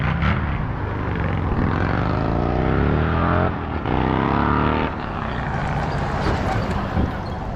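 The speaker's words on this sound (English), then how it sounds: "I just heard a motorcycle going up the street, which you just heard" An engine rises and falls as a motorcycle goes by along the street, with a rumbling drone swelling and then fading away.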